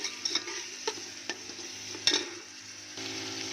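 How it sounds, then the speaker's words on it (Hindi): Tomatoes sautéing with masala in a pan, a soft steady sizzle broken by several sharp spoon scrapes and clicks against the pan, with no talking. "इसी तरह भूनना है हमने, ये टमाटर अच्छी से गल जाएंगे।"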